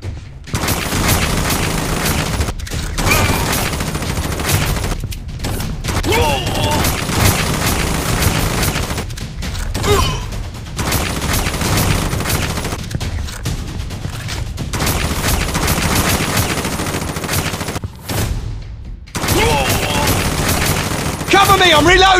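Dense gunfire in the mobile shooter WarStrike, with rapid automatic bursts and scattered booms running almost without pause, mixed with shouted battle voices and game effects.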